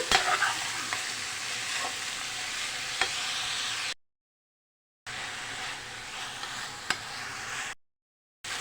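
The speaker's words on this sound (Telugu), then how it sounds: "ఒక నాలుగు టమాటాలు తీసుకొని ఇలా కట్ చేసుకోండి అలానే ఉల్లిపాయ ముక్కలు కొంచెం ఇవి మగ్గాలి" Chopped tomatoes and onion pieces softening in a hot pan for cauliflower curry, with a steady close sizzle and occasional scrapes of a stirring spoon, cut by two short stretches of silence.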